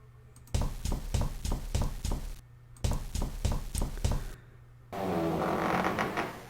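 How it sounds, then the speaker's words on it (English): Footsteps in the horror adventure game 5 Days a Stranger: two runs of evenly spaced, close, heavy thuds, several each, separated by a short pause, then a steady broadband noise wash takes over at the end. "I can hear footsteps."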